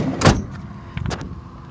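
A Dodge Grand Caravan van door is pulled open and shut by hand, giving a loud close thud followed by a second fainter latch knock about a second later, nearby and with no talking.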